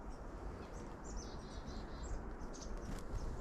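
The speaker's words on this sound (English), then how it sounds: "We got the little birds eating right out of our palms." Small wild birds, including blue jays, chirp and tweet in short, scattered calls while taking food from outstretched palms near an icy waterfall, faint against a low background hiss.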